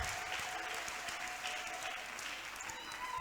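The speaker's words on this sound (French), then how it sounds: "Applaudis pour le Seigneur." Steady, dense applause from a church congregation at an Easter service fills the whole stretch, a continuous wash of many hands clapping at moderate loudness.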